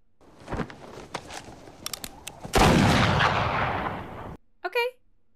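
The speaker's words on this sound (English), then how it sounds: "Shooting cornbread out here on the prairie is getting us no closer to the Ned Pepper gang." Gunshots from the 2010 western True Grit, several sharp cracks in a row followed by a long loud burst of noise, then brief talk.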